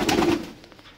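Lahori Siraji jumbo pigeons give a single soft, low coo up close, fading within a second, with no voices.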